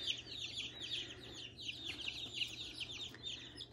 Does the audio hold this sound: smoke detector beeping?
no